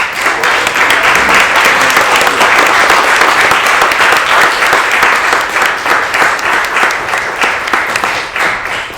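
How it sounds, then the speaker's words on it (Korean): Audience applause at a graduation and degree ceremony, dense and loud at first, then thinning toward scattered claps near the end. "박수 한번 부탁합니다."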